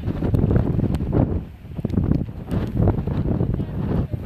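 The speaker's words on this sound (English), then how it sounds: "it is pretty windy in the end. It's really picking up now." Strong outdoor wind buffets the microphone in heavy, gusting rumbles that rise and dip throughout, with a brief lull partway through.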